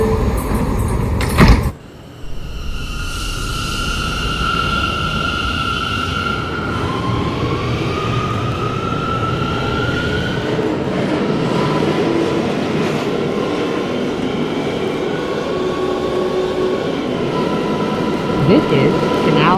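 An R179 New York City subway car on the Brooklyn-bound C local rumbles loudly and steadily along the tracks, with rising whine tones and rail clatter, after a brief sharp burst near the start.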